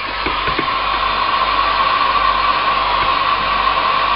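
A hair dryer blows steadily and loudly up close, a constant whooshing whine with a few faint knocks underneath.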